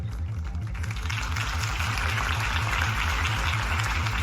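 Crowd applause after Harvey Dent's campaign speech in Batman: The Telltale Series, a steady wash of many distant hands clapping over a low pulsing music bed.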